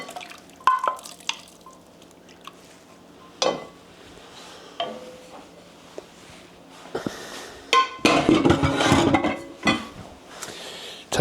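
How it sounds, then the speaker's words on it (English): Chunks of beef dropped back into a stew pot, giving a few soft wet thuds and clatters at about 3.5, 7 and 8 to 10 seconds, with quieter kitchen clinks between. "back goes the meat"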